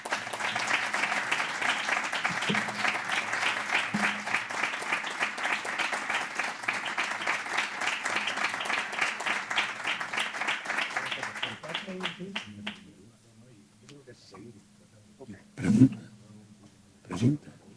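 Audience applause after an archaeology lecture, dense and steady for about twelve seconds before fading into a quiet room with a few faint coughs and stirrings.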